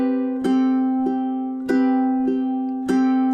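Ukulele strums out bar 38 of a piece in a close, loud passage of ringing chords with a few rhythmic strokes, played alone without talk.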